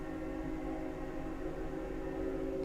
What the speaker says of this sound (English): That fucking train back there.